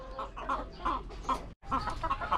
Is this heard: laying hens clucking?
yes